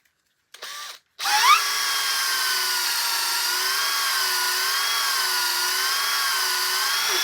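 After a brief whir and pause, a power tool spins up and holds a steady, loud, even whine while reaming out a fishing rod handle, its pitch wavering slightly as it cuts.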